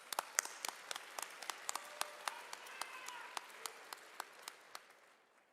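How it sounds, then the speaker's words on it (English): An audience at the 95th Iowa FFA State Leadership Conference general session applauds for the Iowa Association of Agriculture Educators, with sparse, distinct claps ringing out in a steady rhythm before fading away at the end. "Let's give a big round of applause for the Iowa Association of Agriculture Educators"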